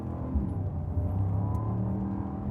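Mercedes-AMG SL in Sport mode with manual gearbox and sports exhaust engaged, engine note droning and rising steadily, loud and close throughout without talk.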